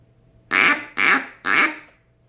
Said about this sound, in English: The object I chose to talk about today and how it ties into my life is this duck call.